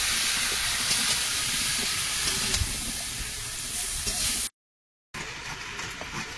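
Pumpkin and other vegetables sizzle in a hot pan with salt and turmeric, giving a steady, close hiss of frying with small crackles, broken by a brief silent gap near the end.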